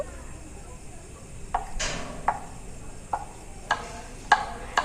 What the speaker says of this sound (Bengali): ডিমগুলোকে ছোট ছোট টুকরো করে কেটে নিচ্ছি ছুরি দিয়ে